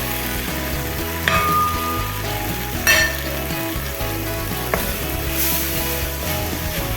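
Spice powders frying with sautéed tomatoes in a pan give a steady sizzle throughout, broken by a few sharp clinks and scrapes of stirring, with no talking.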